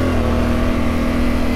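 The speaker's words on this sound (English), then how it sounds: "I like the smoothness of the engine as well." A Yamaha Ténéré 700 adventure motorcycle engine drones steadily and loudly up close while riding, a smooth, continuous, even hum with no breaks.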